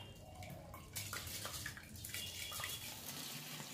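Tangra fish and giant prawns being washed in water in a home kitchen, with steady running and splashing water filling the clip, fairly close and continuous, no talking.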